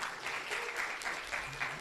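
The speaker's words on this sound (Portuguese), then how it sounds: "Palmas pro nosso amigo novamente." A short burst of clapping from a small group of students in a calculus class, close and lively, lasting a couple of seconds.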